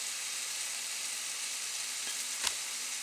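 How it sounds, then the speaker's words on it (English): Ground meat for an Irish red ale shepherd's pie browns in a pan with a loud, steady, close sizzle and one brief utensil knock near the end, alone with no talk. "So the meat's browning up."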